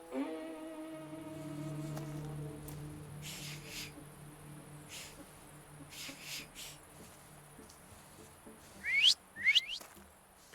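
A character whistles in the video game The Thaumaturge, giving two or three sharp, rising chirps near the end after quieter tonal game sounds.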